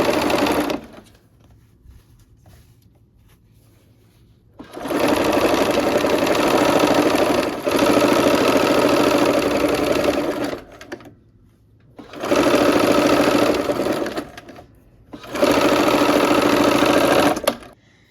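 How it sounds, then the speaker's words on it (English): A sewing machine stitches the final rows of a nine-patch quilt block with pins in place, running loud and steady in three long stretches with quiet gaps between them. "All right, we're at the machine. We'll sew these last rows on the 9 patch."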